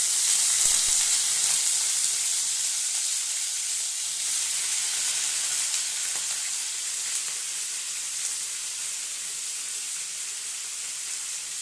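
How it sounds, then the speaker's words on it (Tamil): Raw plantain and potato pieces fry in hot oil, giving a continuous bright sizzle and hiss that stays steady and close throughout, with no talking. "இப்போ எண்ணெய் சூடாயிடுச்சு, நம்ம வந்து காயை வந்து அதுக்குள்ளே போட்டுக்கலாம்."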